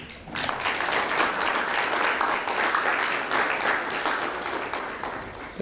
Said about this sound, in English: Let's have another round of applause for all three of those students